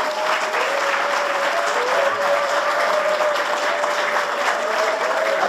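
A church congregation applauds and cheers loudly, steady dense clapping with crowd noise holding throughout, no single voice standing out.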